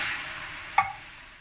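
Vegetables and half a cup of water hit a wok on medium-high heat, giving a steady loud hiss with a brief sharp crackle partway through and no voices.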